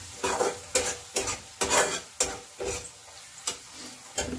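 A spoon stirs carrot curry with garam masala in a pan, making about nine distinct, evenly spaced scraping strokes over a faint sizzle, close and fairly quiet.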